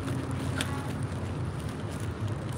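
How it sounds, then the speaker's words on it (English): Wind blowing steadily outdoors near cedar wood, a continuous broadband rushing with a rumbling low end that buffets the microphone throughout. "The wind blowing just a bit."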